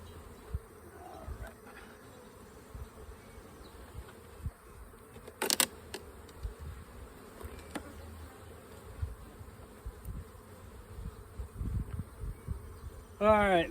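Honey bees buzz around a spring hive box heavy with honey, pollen and nectar, a soft continuous drone with individual bees whizzing close by now and then, plus a few handling knocks and brief bursts of nearby sound.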